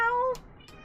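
A cat gives one short, clear meow up close, followed by quiet room sound and a faint click.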